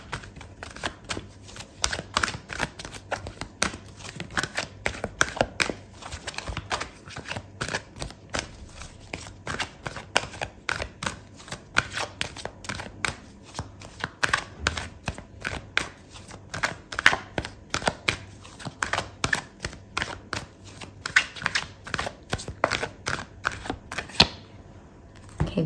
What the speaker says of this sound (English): I'm gonna pull out another card for you